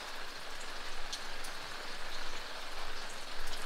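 Light rain falling steadily around a creek campsite in Idaho, an even soft patter with gentle swells and no talking.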